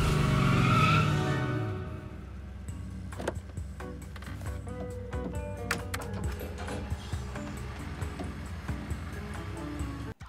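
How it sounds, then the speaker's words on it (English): A film car chase through a shopping mall at breakneck speed: a loud tire skid and engine rush at the start fades into scattered clatter, bangs and impacts. "a car chase through the mall at breakneck speed"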